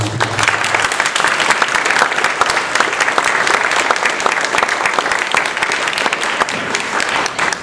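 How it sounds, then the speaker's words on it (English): Audience claps for the candidates at a Seattle City Council District 5 primary election forum, a brisk burst of dense applause that stays loud and even for several seconds before tapering slightly. "Can we have a quick round of applause for the candidates here tonight?"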